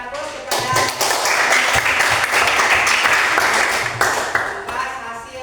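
A classroom audience claps together in a dense, steady burst of applause lasting several seconds, loud and close, with a few sharper taps and thuds mixed in before it thins out.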